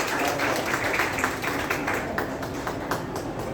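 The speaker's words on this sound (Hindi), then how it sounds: "लियाकत भाई के लिए जरा भरपूर तालियां बजा दीजिए।" A gathered audience at a catechism teachers' training event claps steadily and fairly loudly for several seconds, a dense, continuous patter of hands with no voices over it.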